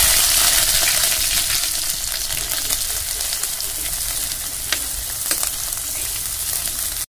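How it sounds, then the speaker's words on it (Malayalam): Crushed shallots dropped into hot coconut oil, loud continuous crackling sizzle with sharp pops scattered through it, steady from start to finish before cutting out. "നമുക്കിതിൽ 10 കൊച്ചുള്ളി ചതച്ചതാണ് ഇതിലേക്ക് ഇട്ടു കൊടുക്കാം."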